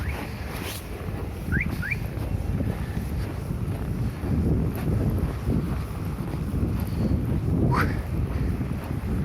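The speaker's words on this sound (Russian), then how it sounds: "Ветерок дует" Wind gusts blow steadily across the microphone on a snowy late-winter street in Yakutsk, a continuous close buffeting rumble with a few faint higher chirps and no speech.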